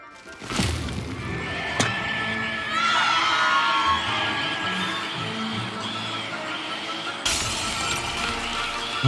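A mandrake screams as it is pulled from its pot in the video game Hogwarts Legacy: a sustained, shrill, warbling shriek lasting several seconds, set off by sharp cracks at the start and end.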